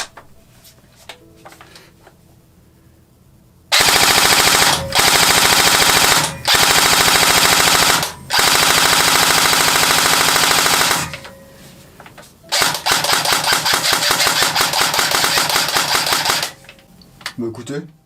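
Cybergun FNH Minimi nylon-fibre airsoft replica on a 9.6 NiMH battery fires several loud, rapid full-auto bursts in quick succession, with a rattling mechanical buzz and brief gaps between strings.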